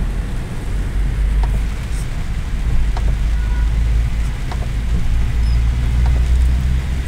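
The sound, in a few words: heavy rain in city street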